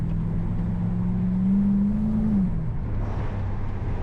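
An HSV VT GTS with a Holden 5.0L V8 drones steadily while being driven, a deep engine hum with a tone that swells and eases, heard from inside the car over road noise, with no talking.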